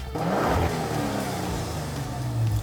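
A Maserati Levante's 3.0-litre Ferrari-built V6 engine revs and roars loudly up close, its pitch rising and falling through a couple of throttle blips over a steady rumble.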